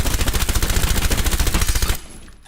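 Sustained automatic gunfire rattles in a rapid, even stream in a video game recoil test, loud and close for about two seconds before stopping abruptly into quiet.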